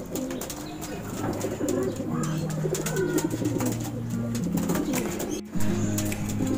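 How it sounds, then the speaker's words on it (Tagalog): Several pigeons coo in low, repeated throaty calls that overlap steadily throughout, with faint rustling in the background. "nakainom na yung mga alaga nating kalapate"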